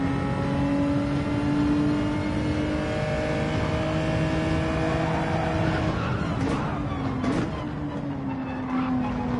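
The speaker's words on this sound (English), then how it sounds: "Wasn't sure if his car was screeching out." Tires screeching and skidding in a racing video game at the Yas Marina circuit, loud and steady under a droning, revving engine, with a couple of sharper squeals near the end.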